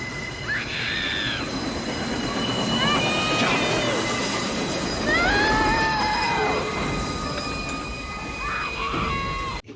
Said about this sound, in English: the train is coming towards him and it eventually kills him